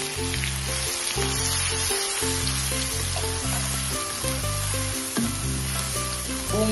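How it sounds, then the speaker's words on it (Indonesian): Spice paste fries in leftover oil from frying shallots, giving a loud, steady sizzle and crackle close up, with background music running underneath. "Kita goreng bumbu ya, bekas minyak yang goreng bawang goreng tadi ya."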